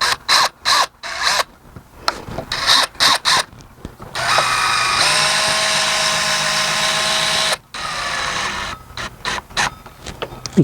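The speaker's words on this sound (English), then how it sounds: "we'll screw it down" A power drill drives screws into a Trex composite railing outdoors, its motor whirring in a long steady burst broken by short spurts of trigger starts and stops, loud and close.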